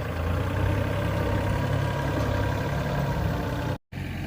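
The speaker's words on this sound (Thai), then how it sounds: "รถไถเขาลาเพื่อถมดินให้มันทับสะพาน" A tractor engine runs steadily while working to fill soil over a bridge at a date palm farm, a loud low rumbling drone throughout, with one very brief dropout near the end.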